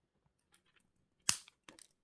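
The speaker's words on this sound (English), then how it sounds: "what I'm going to do is just fold them over the back and cut them off." Wire cutters snip the folded-over wire ends on the back of a handmade two-stone moon pendant, giving a sharp close click followed by a couple of smaller snips.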